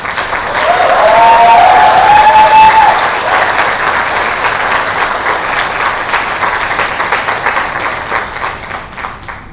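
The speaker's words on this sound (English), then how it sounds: "A round of applause to the lecturers." Loud, sustained applause from a graduation ceremony audience honoring the lecturers, dense clapping swelling early and then holding steady with a faint whistle or cheer near the start, gradually thinning toward the end.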